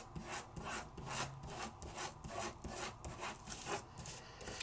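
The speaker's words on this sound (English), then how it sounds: "Give it a good burnish." Foil being burnished onto a die-cut piece: rhythmic close rubbing strokes, about two per second, dry and scratchy, fairly quiet and alone.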